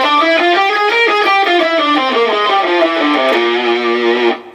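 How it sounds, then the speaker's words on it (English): A heavily distorted electric guitar plays a quick ascending and descending Lydian Dominant mode scale, evenly paced and loud, with no voices, stopping abruptly. "The fourth mode is called Lydian Dominant,"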